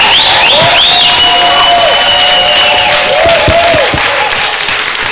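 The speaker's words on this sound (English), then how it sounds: "can we give Geoff just one more round of applause" Conference audience applauding at a fellows summit, a broad steady wash of clapping that fills the clip, with whistle-like tones and a few voices mixed in.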